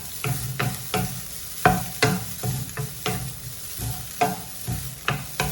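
A spoon scrapes and stirs a coconut, jaggery and pumpkin seed mixture heating in a pan, repeated knocks and scrapes over a soft sizzle.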